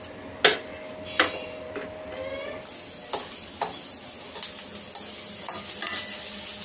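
Onions frying in a little oil for egg curry, a continuous sizzle punctuated by sharp metal spatula clanks and scrapes against the pan at irregular intervals, loud and close, with no talking.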